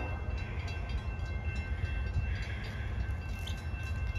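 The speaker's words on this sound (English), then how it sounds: "here comes BNSF 800" A loaded BNSF coal train drawn by locomotive D801 rumbles in slowly as it approaches, a steady low diesel drone with broadband rail noise that stays continuous and moderately loud throughout, with no talk.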